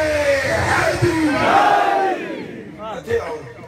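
A large crowd loudly chants the Nara-e-Haidari slogan in unison at a religious gathering, a sustained roar of voices that swells and then fades with a shorter shout near the end.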